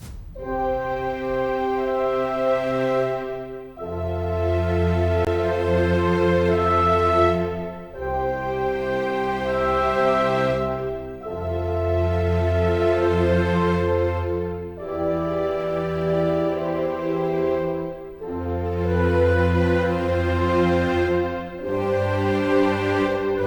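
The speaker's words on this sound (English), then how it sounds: "If we combine the Woodwinds, the horn ensemble and the strings, it sounds like this." Sampled orchestral woodwinds, horns and strings from a Kontakt 7 library play sustained chords together in several long phrases, full and steady, with brief dips between swells.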